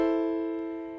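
A single sustained major chord rings out alone, with steady stacked harmonic tones that slowly decay over about a second, played as part of a chord-identification lesson.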